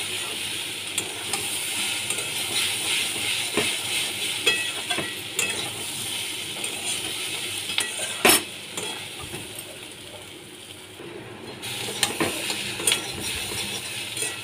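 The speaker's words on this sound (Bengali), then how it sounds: "ভালো করে আমি কষিয়ে নিচ্ছি।" Fried potatoes and peas sautéed in a pan for aloo matar, a continuous sizzle with intermittent spatula scrapes and a few sharp clinks, dipping briefly before picking up again.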